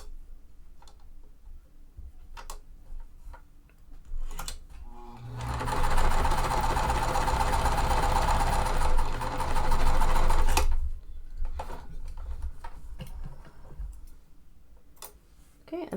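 Sewing machine stitching quilt fabric, a steady mechanical whir running for about five seconds between scattered handling clicks and taps of the fabric, close and moderately loud.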